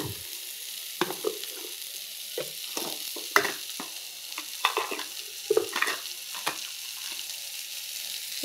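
Whole cinnamon sticks go into hot oil in a badly scorched kadai, giving a soft, continuous sizzle broken by scattered sharp crackles and pops, close and fairly quiet, with no talking.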